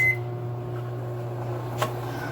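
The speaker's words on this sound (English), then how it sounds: "I'll put it on 5 minutes to microwave it for 5 minutes" A microwave oven runs while heating bay leaf tea, a steady low hum with a faint click partway through, heard alone without talk.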